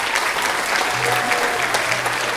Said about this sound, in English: So please give these students a round of applause for that accomplishment.